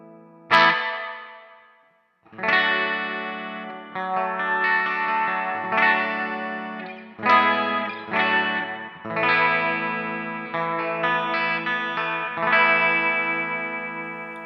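An electric guitar runs through a Flamma FG200 multi-effect unit with the delay switched off, playing loud distorted chords with a chorus shimmer that ring out and restrike every second or two.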